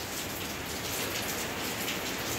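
Rain falls steadily on a home garden, a close, even patter of drops hitting leaves and surfaces with no pauses and no voices.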